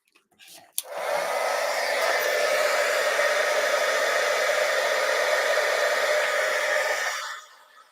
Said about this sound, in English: And we're just going to emboss this really quick.